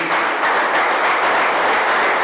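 Church congregation applauding together, a steady dense wash of clapping that stays loud and even throughout with no break.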